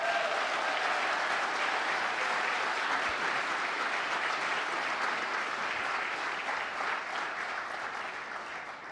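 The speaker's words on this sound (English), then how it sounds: "Let's give them a round of applause." Sustained audience applause fills the hall at a political address on climate investments, a dense wash of clapping that stays loud throughout and tapers slightly toward the end.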